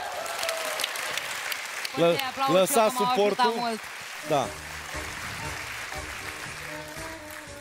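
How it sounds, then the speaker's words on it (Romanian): Audience applause at a Romanian stand-up comedy show, a dense crowd clapping throughout while people speak over it on stage. "Aplauze pentru."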